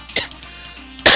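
A voice coughs twice, a short cough near the start and a louder, harsher one at the end, close and clear with nothing else around.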